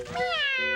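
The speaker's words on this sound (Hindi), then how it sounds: "ओह, इसके अंदर तो एक बिल्ली है।" A cat trapped inside a bucket lets out a single clear, rising-then-falling meow, close and fairly loud, in a cartoon setting.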